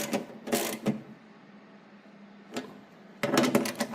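Bolts being tightened on the drive carrier of a 25-year-old Ariens snowblower, heard as a few close bursts of ratcheting or clicking: one cluster at the start, a single burst midway and a denser run at the end, with quiet shop air between.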